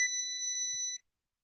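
A kitchen oven beeps with its door cracked open, a single loud, steady electronic tone lasting about a second, then a short silence before the next beep starts.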